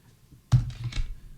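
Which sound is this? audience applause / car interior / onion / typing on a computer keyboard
typing on a computer keyboard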